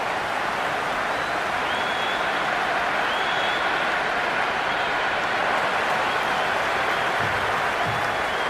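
Dense, steady roar of a large cricket stadium crowd cheering and applauding throughout a Sri Lanka vs England T20 match, loud and continuous with no clear speech.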